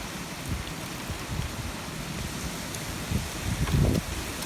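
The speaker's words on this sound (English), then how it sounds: "the squall line is now coming right across Mepham. There's everything in there: sleet, hail," A squall line sweeps across Meopham on a February afternoon, bringing steady rain with sleet and hail driven by strong gusting wind, a continuous broadband roar that swells briefly louder near the end, with no voices.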